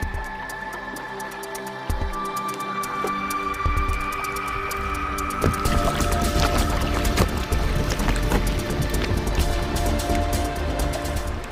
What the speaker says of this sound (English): The sound of bubbles popping, the sound of ice grinding against itself.